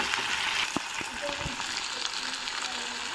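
Ginger garlic paste frying in a pan as it is mixed, a quiet continuous sizzle with a couple of sharp utensil clicks and scrapes, heard alone.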